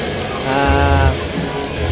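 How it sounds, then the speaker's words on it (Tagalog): Rain falls steadily at an outdoor car show, a dense hiss under a low rumble and a faint tonal hum, loud and continuous throughout. "umuulan"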